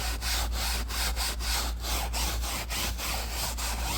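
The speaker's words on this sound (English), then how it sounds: "after I scrub with that, hit it with my brush" A brush scrubs car seat upholstery in quick, rhythmic back-and-forth strokes, close and steady, with a soft scratchy rasp throughout and no voices.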